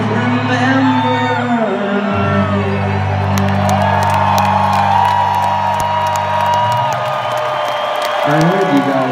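Live rock concert crowd at a Red Hot Chili Peppers show cheering, whooping and applauding in a dense, steady roar over sustained band chords, loud and continuous throughout.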